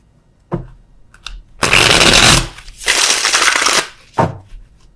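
Tarot clarifier cards shuffled by hand in two long riffling bursts, with a few short taps and snaps of the deck before and after, close and crisp in a quiet room.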